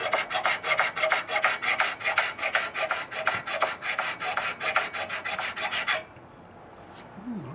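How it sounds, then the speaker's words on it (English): A small smooth body file rasps powder coating off a motorcycle frame for a 1941 74ci Knucklehead bobber, with steady rhythmic back-and-forth strokes, close and crisp, for about six seconds before stopping. "So the next step of getting rid of powder coating is to file it down. We'll get the body file out."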